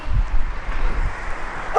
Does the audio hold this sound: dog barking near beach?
yes